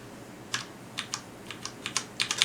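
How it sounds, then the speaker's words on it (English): Fingers typing on a Ducky mechanical keyboard, a string of separate crisp key clicks at an uneven pace, close and clear against quiet background hiss, with a quicker burst toward the end. "as you individually type on the key"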